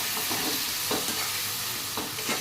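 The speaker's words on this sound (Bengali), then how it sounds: "এবার এটা ভালো করে কষিয়ে নেব।" Freshly ground spice paste is sautéed and stirred in a pan, giving a continuous close sizzle broken by repeated scraping strokes of the spoon, with no one speaking.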